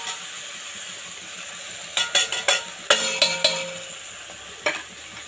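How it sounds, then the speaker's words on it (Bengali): Onion, tomato, green chili and potato fry in a pan with a low background sizzle as masala goes in, followed by a cluster of brisk scraping and clattering stirs, then a final scrape. "এবার আমি এর মধ্যে মশলাটা দিয়ে দেব"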